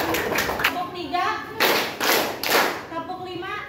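Schoolchildren in a classroom counting game clap hands together in a few sharp group bursts, interleaved with a teacher's spoken counts and kids' chatter.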